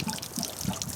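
Water draining out of a camper water heater during winterizing: a continuous close trickle and splash of running water, steady and fairly loud, without talking.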